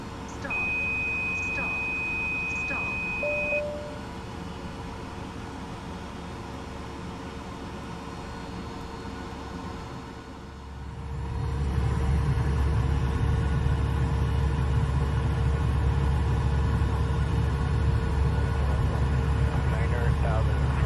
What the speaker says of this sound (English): Pre-flight test warnings.